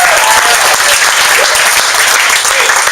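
A large audience at a business launch event applauds loudly and continuously, a dense wash of clapping throughout with no talk over it.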